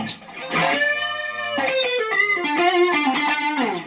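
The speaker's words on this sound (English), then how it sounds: "And then we have that rotary sound." Electric guitar through a distortion pedal into a rotary-speaker effect, live performance of a song: swirling, warbling tone over driven distortion, playing a sustained melodic line, loud and up front.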